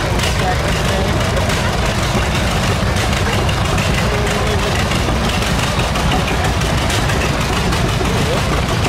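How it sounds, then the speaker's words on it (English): A 1960 John Deere 630 tractor rated at 44 horsepower runs at a steam power show, its loud, steady engine rumble continuous throughout while an announcer talks over it. "John Deere 630, built 1960, rated at 44 horsepower, owned by Eric"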